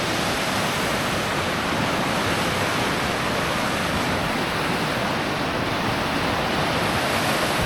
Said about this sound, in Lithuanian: nes labai srauni upė